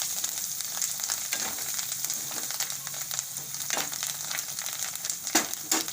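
Turmeric, cumin and coriander mixed into hot oil, giving a soft continuous sizzle with scattered scraping stirs and a few louder clicks near the end, fairly quiet and close.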